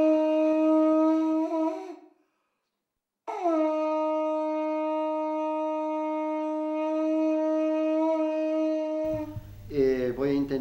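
A pututu, an Andean shell trumpet of unknown age, blown in two long steady tones with a brief gap between them, loud and close, followed by a short wavering voice-like sound at the end.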